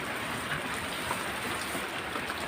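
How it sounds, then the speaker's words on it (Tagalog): Steady rain falls close by, a dense even hiss of drops hitting surfaces, with no voices, around a Kia Bongo 3 J3 CRDI truck during roadside troubleshooting. "naabutan kami ng ulan"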